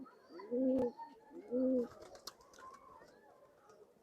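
An old-bloodline pigeon in a loft coos twice, two clear, close, rhythmic coo phrases about a second apart, followed by quieter rustling and faint background sounds.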